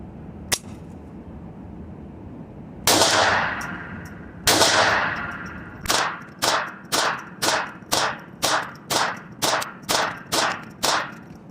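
A Taurus TX22 Compact .22 pistol fires Super X ammunition, with two separate sharp shots followed by a steady string of about ten evenly spaced cracks outdoors, each with a short echo.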